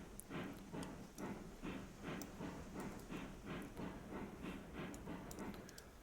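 A long train in the Railroads Online game grinds slowly over a hump, with steady, even rolling thumps of the cars and a hissing wash above, continuous and fairly loud with no voices.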